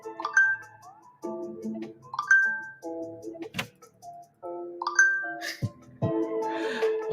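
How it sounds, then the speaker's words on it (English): A phone that was switched off all morning chimes repeatedly as messages come through, a rapid string of short, clear notification tones in close succession with brief gaps between them. "so then I turned it on, and then the messages come through"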